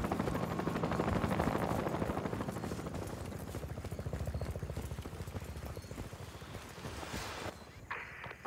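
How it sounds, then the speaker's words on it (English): A helicopter flies in Battlefield: Bad Company, its steady rotor thump loud and close for several seconds before cutting off abruptly near the end, with faint game sounds beneath. "Hey, look! That's our chopper!"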